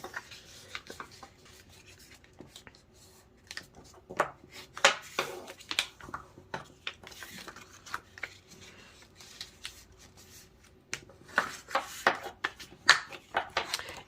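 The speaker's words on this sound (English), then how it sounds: "you're going to take a bone folder and you're going to crease all those score lines" Paper being creased along score lines with a bone folder, heard as a series of short rubbing and scraping strokes that come in bursts with quiet gaps between them, close up and fairly soft.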